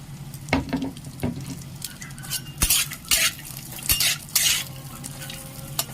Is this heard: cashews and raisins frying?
yes